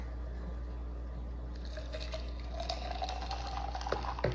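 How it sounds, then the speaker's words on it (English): A drink is poured into a glass, a soft liquid trickle and gurgle that builds over a few seconds against a low steady hum. "Then you're just gonna pour it in your glass."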